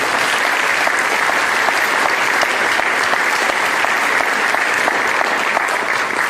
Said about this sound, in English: We have a round of applause for our school directors.